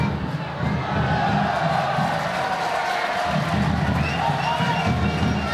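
Football supporters cheering in the stands at a Thai league match, a continuous roar of crowd chanting and shouting, distant and broad, holding at an even level throughout.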